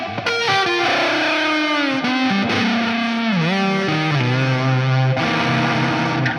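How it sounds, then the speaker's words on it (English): Distorted electric guitar with the whammy bar pinched for a rattling effect, sustained notes bending down in pitch and wavering, loud and close with no talking. "Another trick that I really love is the pinch of the whammy bar to create that rattle"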